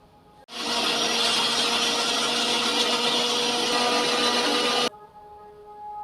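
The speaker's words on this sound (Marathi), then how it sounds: "हे मिक्सरचं जे आहे ते ज्यूस काढायचं भांड आहे आणि आता याला झाकण लावून आपल्याला फिरवून घ्यायचं आहे" Mixer grinder juice jar blending lemon with ice cubes, starting abruptly into a loud steady whirring grind with rattling ice, running for about four seconds before cutting off sharply, no talk.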